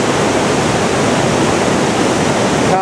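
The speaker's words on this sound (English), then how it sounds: "We're close to the river now." Steady, loud broadband rush of the Fuji River in Japan flowing over rocks beneath a bridge, close by and continuous with no voices.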